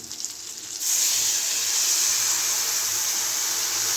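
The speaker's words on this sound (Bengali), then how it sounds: "আমি এবার সর্ষে বাটাটা দিয়ে দিচ্ছি," Mustard paste dropped into a wok of fried onions for a bitter gourd curry, letting out a quiet rustle before a loud, steady sizzle of frying that holds evenly to the end, with no talking.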